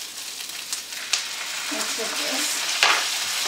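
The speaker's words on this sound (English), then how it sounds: "And just all of this frying together." Beef and onions with Worcestershire sauce sizzle steadily in a pan over medium heat, a continuous bright frying hiss with a couple of sharper spits, while a voice speaks briefly underneath.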